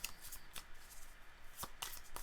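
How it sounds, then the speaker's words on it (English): Magic: The Gathering cards are shuffled in quick riffled bursts, several crisp flutters close to the listener with short pauses between them, alone and fairly quiet. "So, as always, shuffling up."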